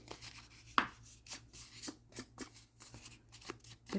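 Scissors snip through paper as it is fussy cut for a journal, a quiet series of crisp, irregularly spaced cutting clicks and rustles, close up with no talking.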